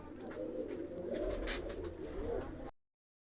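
Pigeons coo softly in a snowy outdoor loft, a faint low murmuring that runs steadily under light background noise before cutting off abruptly.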